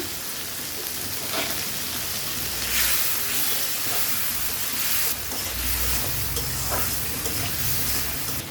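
Cumin seeds sizzle in hot oil left over from frying fish, a steady close crackling hiss with occasional stirring scrapes, loud and continuous with no voices.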